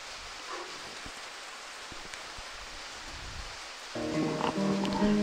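Steady rain patters softly on surfaces at a cemetery, a broad hiss with scattered drops, before a louder tonal sound joins near the end.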